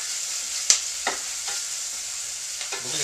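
A spoon stirs herbed chicken breast and vegetables in a hot pan, giving a few soft scraping knocks over a steady sizzle, with no talking.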